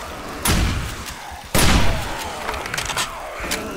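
Zombies pound on a door in the survival video game 7 Days to Die, two heavy thuds landing a second apart, followed by quieter knocking and scuffling.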